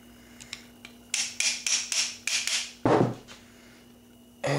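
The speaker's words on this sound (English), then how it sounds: "Just take your plastic mallet." A plastic mallet taps a nipple back into place on a Pietta 1860 Army .44 cap and ball revolver, giving about six evenly spaced close knocks, then a heavier thud and one last tap.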